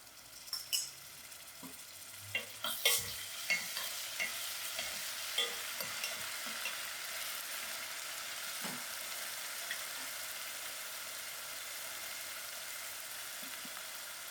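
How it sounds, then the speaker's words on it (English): Crushed garlic frying with golden brown onions in a pan for a taro (madumbe) curry: a steady sizzle with scattered spatula scrapes and clinks, busier at the start, then settling into an even hiss. "Thereafter I'll add in my crushed garlic."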